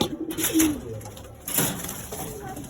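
Soft, low cooing from silver pigeons comes in two short bursts over a faint hiss of background noise.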